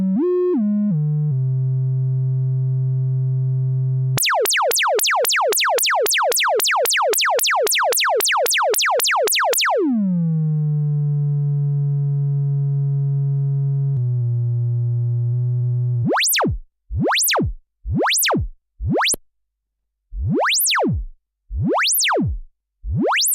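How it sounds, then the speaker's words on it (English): Korg MS-20 style filter self-oscillating with nothing patched in: a pure resonant tone that steps in pitch, then a fast burst of rising zaps, a sliding drop, and finally sharp repeated sweeping chirps, loud and alone. "Nothing connected, just a self-oscillating resonator or resonance."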